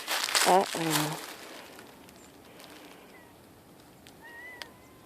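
A cat out on a walk gives a short, plaintive meow pair near the start, close and clear, followed by quiet outdoor ambience with faint rustling and a distant bird chirp.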